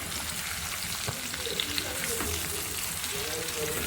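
Crushed garlic cloves sizzling and frying in a pan of oil while cooking bitter gourd curry, a steady close hiss with faint stirring clicks throughout.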